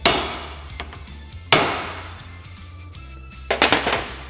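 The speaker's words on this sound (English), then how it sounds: "take the other hammer and smack it" Two sharp metallic hammer strikes on a ball peen hammer held against a Can-Am Commander wheel hub ring out a second and a half apart, followed by a quick cluster of lighter clanks, close and loud.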